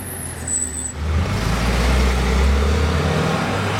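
A Porsche GT3 Touring passes close by, its engine rising into a loud, sustained roar after a brief quieter moment, recorded from low at street level with steady road noise underneath.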